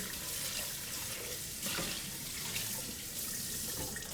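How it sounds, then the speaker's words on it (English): Tap water runs steadily into a kitchen sink while an Oreo crust bowl is rinsed, a continuous close splashing hiss with a brief stronger gush midway and no talking. "after a quick rinse of the Oreo crust bowl"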